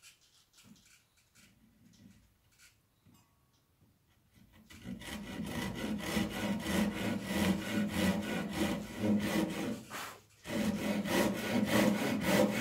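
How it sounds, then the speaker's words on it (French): Rhythmic rasping strokes of a Japanese handsaw cutting through wood, steady and close, starting after a few seconds of quiet with a brief pause near the end. "à la scie japonaise."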